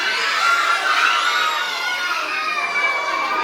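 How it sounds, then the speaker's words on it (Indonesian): A group of children shouts together in a loud, continuous chorus, close and sustained, like a class answering all at once. "Jangan teriak-teriak ya."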